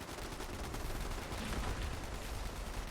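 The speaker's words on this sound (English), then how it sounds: "get my artillery smoke grenades" An artillery strike in Fallout 76 that a smoke grenade called in: a dense, continuous rumble of distant blasts and rattling fire, steady and fairly faint, with no voices.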